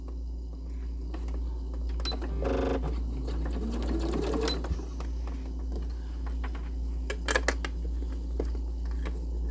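A sewing machine stitches the ends of a scrap piece of fabric in one short, loud burst of rapid needle strokes. It is set among quieter handling noises and a steady low hum, and sharp clicks follow near the end.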